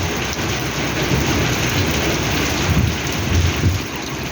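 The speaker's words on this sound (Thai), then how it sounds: "ผ่าฝนไปเปียกกันแต่เช้าเลยครับ" Steady, dense downpour roaring without a break, a heavy wash of rain hitting surfaces up close with no voices.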